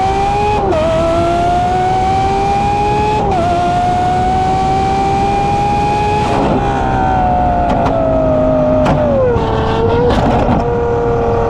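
Loud, continuous roar of a straight-piped Lamborghini SVJ engine revving, its pitch rising and dipping repeatedly as it accelerates and shifts, harsh and close.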